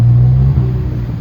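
A Volkswagen Polo car rumbles close by as it pulls away, a low engine drone with a brief rising note that eases off within about a second.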